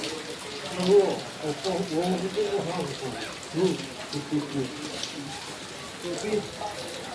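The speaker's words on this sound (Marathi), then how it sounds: "फुल पाऊस जोरात आहे." Rain pours in a continuous broad hiss while people talk over it.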